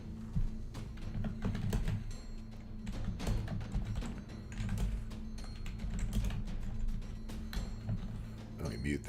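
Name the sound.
typing on a computer keyboard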